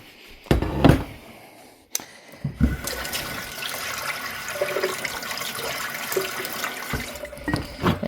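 Filtered tap water runs into a gallon jug, a steady splashing gush that stops and restarts after a couple of clunks, the pitch of the pour rising faintly as the jug fills.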